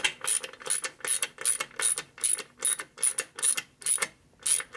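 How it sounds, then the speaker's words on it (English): A ratcheting wrench tightens bolts on the top end of a 1990 Harley FXR Evo engine, about a dozen evenly spaced loud clicking bursts close up with short gaps between them. "So now you just tighten them down until they expand out, not until you can't turn the damn wrench no more."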